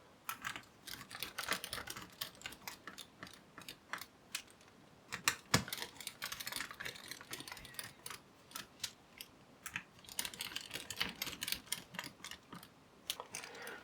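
Four screws refitted into an HP EliteBook 830 G11 laptop, a quiet, close run of small clicking and ratcheting taps from a screwdriver, irregular and continuous, with brief louder clicks.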